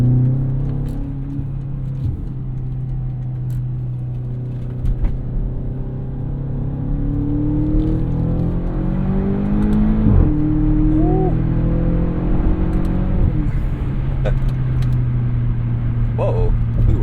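A $14,000 Ultima car accelerates up to speed on a highway, its engine rumbling steadily and rising in pitch over a continuous, loud road drone with a few brief sharp noises.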